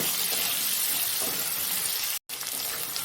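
Potatoes sizzle steadily as they fry with salt in a pan over a lowered gas flame, a continuous soft crackle with a brief silent gap near the end.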